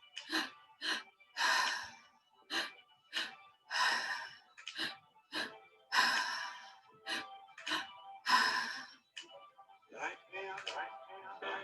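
Forceful breathwork breathing: a rhythmic series of sharp, close inhales and exhales, some gasping and sighing, repeating in uneven pulses with brief pauses and no talking.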